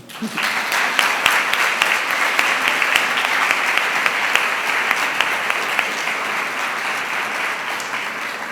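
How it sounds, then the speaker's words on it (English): An audience at a school graduation ceremony gives a round of applause, sustained dense clapping from a large crowd in a hall, with sharper individual claps standing out near the front. "please join me in giving them another round of applause"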